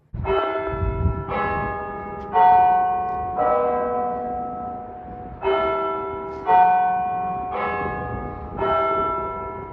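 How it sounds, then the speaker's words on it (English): Electronic clock tower chimes from loudspeakers, a Verdin system marking the hour, ring out in a slow sequence of about seven struck tones, each decaying with a long resonant ring, loud and clear. "This is the source of the chime that you hear every hour."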